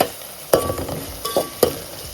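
Onions sautéing in hot oil give a soft sizzle, punctuated by a few sharp scrapes and clatters of stirring.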